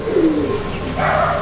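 Pigeons cooing in a loft in Chandannagar, Hooghly, a few soft, throaty, rolling coos close by, one dipping low before another rises, with no talk over them.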